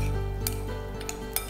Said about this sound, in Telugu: ఇప్పుడు ఇందులో మనము ఫ్రెష్ చీజ్ క్రీమ్ వేద్దాం. చక్కగా మిక్స్ చేయాలి.